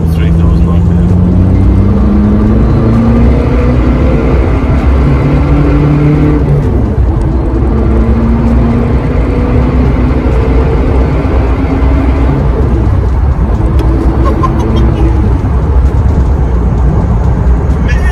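A car engine holds a steady drone at about 3,000 RPM in fourth gear, loud and constant throughout with slowly shifting tones, and a voice speaks now and then over it.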